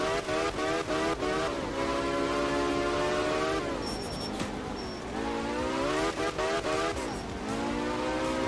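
A Lancia Delta S4 rally car in Art of Rally revs hard throughout, its engine note repeatedly rising in pitch, dropping and climbing again through fast gear changes, with tire noise mixed in and no voices.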